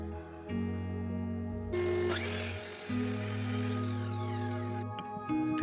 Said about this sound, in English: I trimmed them down to the final length of about 420mm using my Mitre saw